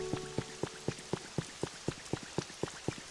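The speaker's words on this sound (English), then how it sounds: "It's raining." Rain in the Pokopia video game, heard as a steady series of distinct drips falling at an even pace, quiet and close, with no talking.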